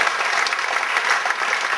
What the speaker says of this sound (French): on peut l'applaudir parce qu'il le mérite